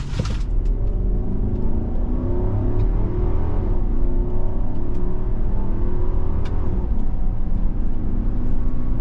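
A 2023 Infiniti QX80 with its 5.6-liter naturally aspirated V8 and seven-speed automatic accelerates hard, a loud continuous engine roar rising in pitch through a gear change, heard from inside the cabin with no talking.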